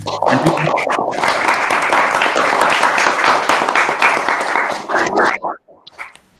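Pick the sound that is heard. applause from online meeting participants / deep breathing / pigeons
applause from online meeting participants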